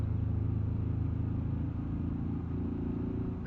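A steady, low car engine in BeamNG.drive rumbles continuously with a slightly rough, uneven, sputtering throb, loud and close, no voices present.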